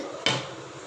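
A single sharp metallic clank of a lid set onto a cooking pot, close and brief, followed by quiet kitchen background.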